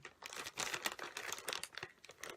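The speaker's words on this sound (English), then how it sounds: "Cut open this package. Try not to rip the shirt inside." Crinkling and tearing of a plastic mail package being cut open, irregular close crackles and rips with a shirt inside, no talk.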